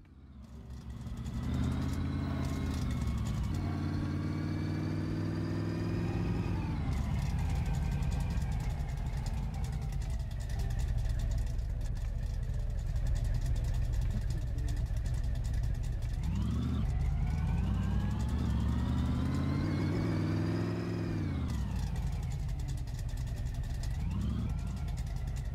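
A customer's car in My Garage drives around an unfamiliar island road, its engine droning steadily throughout with several rising and falling pitch sweeps as it revs through gears, loud and continuous.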